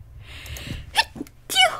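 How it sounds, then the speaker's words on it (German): A single sharp sneeze bursts out near the end, preceded by a few quick indrawn breaths and small vocal catches. "Ich habe das Gefühl, ich muss gleich wieder niesen."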